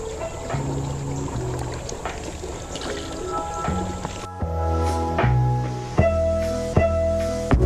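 Footsteps wading along a shallow creek while ultralight fishing: repeated sloshing, squishing and dripping water steps at close range, with a brief pause partway through.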